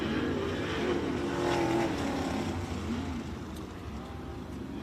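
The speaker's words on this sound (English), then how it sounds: "Jake Blackhurst getting up and over the cushion there on his warm-up lap almost." Sprint race car circles Bloomington Speedway dirt oval on a warm-up lap, a steady engine drone with a rising rev and a fading pass, heard at a distance under track ambience.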